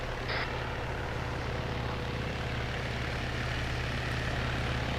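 Little Bird helicopter in the video game Arma 3 flies nearby with a steady, droning rotor and engine hum, constant and unbroken throughout, with no voices.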